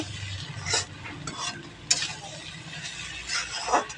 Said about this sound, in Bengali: আমি কিন্তু ভালো করে নেড়ে দিলাম